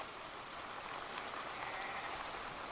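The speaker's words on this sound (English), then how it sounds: "Driving rain, it is eased a little bit." Driving rain during an overlanding trip in Wales, a steady hiss of heavy rain beating on surfaces, continuous and fairly loud with no voices.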